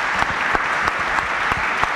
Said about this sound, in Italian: non posso che ringraziare Federico Faggin, vi chiedo un applauso fortissimo per il nostro ospite e vostro concittadino